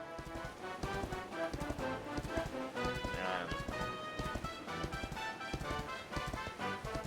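Horse hooves clip-clop in a steady, brisk rhythm while riding in Dragon Quest XI, close and clear over game music and ambient background.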